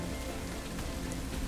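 Steady rain patters on surfaces during a storm, a dense continuous wash of droplets with no voices, even in loudness throughout.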